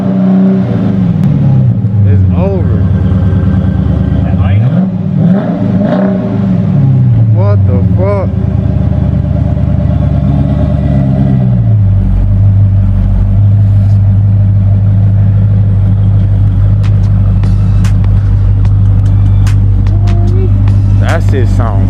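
Dodge Challenger ScatPack with a custom exhaust setup being revved: a loud, close engine rising and falling through several revs before settling into a heavy, steady rumble, with people talking over it.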